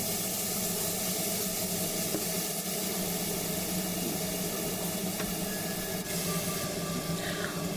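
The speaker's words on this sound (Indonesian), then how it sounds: "Ini aku tumis sampai dia layu ya teman-teman." Tomatoes and spices for a fried-egg sambal sizzle steadily in a hot pan, a loud, continuous close hiss with no pauses.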